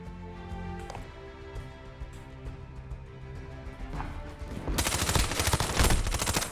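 Rapid bursts of automatic gunfire from Call of Duty: Modern Warfare (2019) swell to a loud, dense barrage in the final seconds, following quieter game music and ambience.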